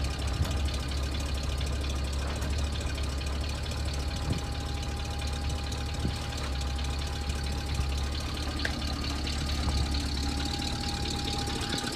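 A 1979 GMC G7000 dump truck idles steadily with a low, even engine rumble and a faint hum from the dual-cylinder hoist raising the bed, continuous and close throughout with no talking.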